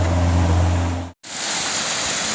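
Trufanets waterfall in Zakarpattia, running thin during a dry spell, gives a steady rushing roar heard from the viewing platform, with a brief dropout midway before the flow noise resumes.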